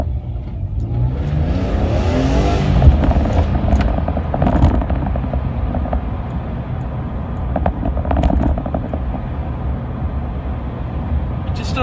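BMW E46 M3 engine pulling hard after a downshift, a loud, sustained mid-pitched roar that builds and holds across the whole stretch, heard from inside the car.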